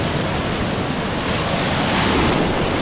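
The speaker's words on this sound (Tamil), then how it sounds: "அதோட பெரிய அலையா ஒன்று வருது." Ocean waves breaking on the shore at Tiruchendur, a loud, steady, close wash of surf that swells slightly toward the end, with no voices over it.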